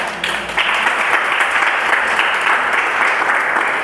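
A church congregation claps loudly and continuously in a dense, sustained round of applause that fills the room, with no voices over it.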